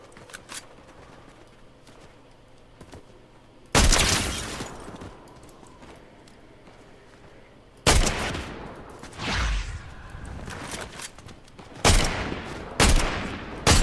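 Bursts of drum gun fire in Fortnite rattle out in rapid sprays, loud and close, separated by quieter stretches of game ambience and footsteps.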